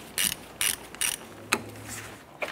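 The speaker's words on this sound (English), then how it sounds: "Let's go ahead and loosen our positive terminal here." Ratcheting wrench loosening the positive battery terminal nut on a 1993-1997 Ford Ranger, a few short bursts of quick metallic clicking close by, separated by brief pauses, with no voices.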